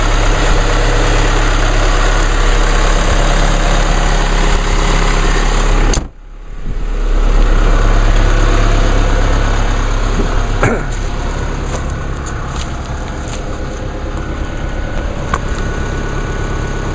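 A steady 2016 Chevrolet Colorado Duramax diesel pickup engine idles loudly and continuously after a cold start, briefly dipping once before settling back into a constant low rumble with faint clicks.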